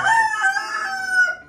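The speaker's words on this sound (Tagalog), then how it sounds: "Ilan din ang silbi ng manok na yan." A rooster crows loudly and close by, one long drawn-out call that trails off at the end.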